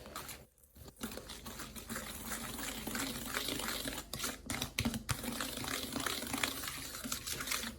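Two spoonfuls of coconut cream are stirred in a bowl, giving faint, close scraping, soft tapping and wet patter that continue quietly throughout.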